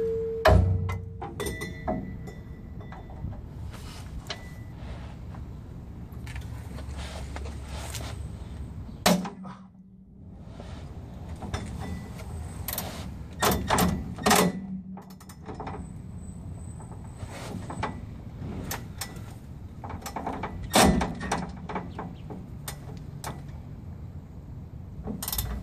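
Socket wrench on a long extension with a 13mm deep socket working the rear shock nut of a 1977-1985 Chevrolet Impala or Caprice, giving bursts of close metallic clicking and ratcheting with clanks and a brief quiet lull midway.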